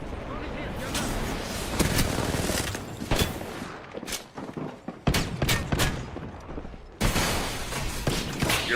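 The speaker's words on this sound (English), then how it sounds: "They're shooting at me." Video game gunfire: dense volleys and sharp individual shots crackling continuously over busy in-game noise, loud and close, with short breaks between bursts.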